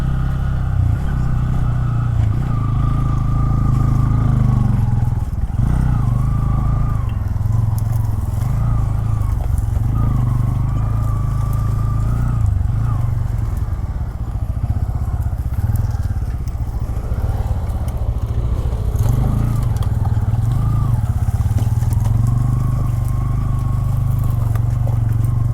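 Motorcycle riding off-road along an unmarked jungle track near Sreemangal, with a continuous loud engine drone and rattling, scraping clatter from the rough terrain throughout.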